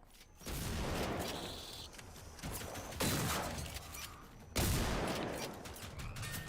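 Video game gunfire rattles in loud, dense bursts, three distinct volleys of rapid shots with sharp onsets and sustained crackle between, no voices over them.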